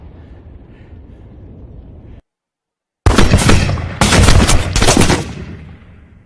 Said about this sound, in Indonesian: terlihat ada beberapa sniper mengarah ke tubuhnya yang membuat si Iko tewas diberondong peluru panas